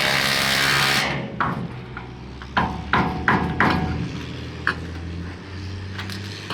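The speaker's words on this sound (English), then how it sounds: "get a video of me trying to get this nut on." A nut being tightened with a power tool during a shop build: loud bursts of whirring driver noise broken by several sharp metallic knocks, close and harsh, with no talking.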